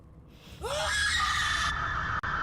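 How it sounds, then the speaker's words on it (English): Scream in a video game trailer at a showcase premiere: one loud, sustained shrill cry that rises sharply and then holds steady for over a second before cutting off. "That scream."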